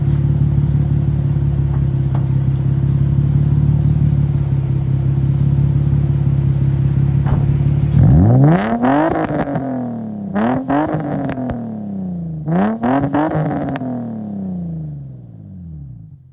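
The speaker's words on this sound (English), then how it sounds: "I'm gonna throw out a little sound clip of how the car sounds right now before the test pipes" An Infiniti G35 with its stock exhaust, before test pipes go on, idles with a steady low drone, then revs sharply three times. Each rev sweeps up and falls back, loud and close, with no talking.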